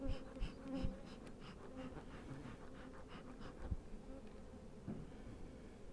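A populous honeybee swarm droning at a hive in an apiary, a steady close buzzing hum with scattered knocks and thumps from handling the hive.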